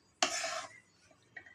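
Gram flour stirred and roasted in ghee for besan laddoo, one short close scraping sweep of a spoon through the pan, then faint light ticks.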